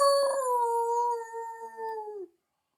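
A man imitates a dog, giving a single long, clear, sustained howl that holds steady and then dips and cuts off sharply, with silence after.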